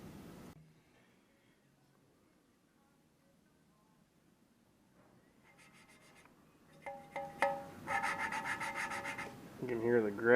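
Gritty rubbing of a valve being lapped into its seat on a 1968 Chevelle engine. Faint at first, then the abrasive rasping swells into loud, scratchy back-and-forth strokes over the second half.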